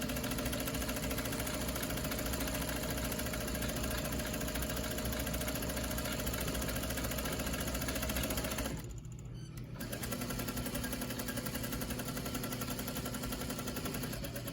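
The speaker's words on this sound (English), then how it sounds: "we're going to continue and sew down the center of the strap all the way to the edge" A sewing machine runs continuously, stitching down the center of a fabric mask tie strap. Its rapid mechanical whir is steady and close, with a brief pause near the end before it resumes.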